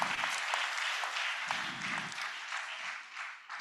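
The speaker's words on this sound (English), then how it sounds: "A round of applause for him" Audience applause at an industry technical meeting in Lagos, a steady wash of many hands clapping from a seated crowd, moderately distant and continuous throughout.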